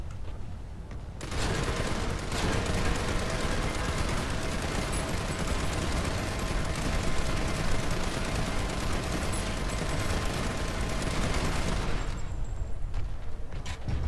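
A tank-mounted minigun in PlanetSide 2 fires as one long, dense, unbroken burst of rapid shots that runs for about eleven seconds and stops abruptly, loud and close, with no talk.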